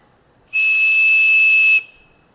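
A loud, steady high-pitched 2600 hertz whistle tone holds for about a second and a half, then cuts off abruptly, with a faint hiss trailing.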